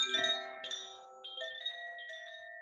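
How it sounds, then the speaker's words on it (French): A small chime rings during a meditative workshop, giving a couple of bright metallic strikes whose clear tones sustain and slowly fade, close and fairly soft with no talk. "Le petit carillon, il est là."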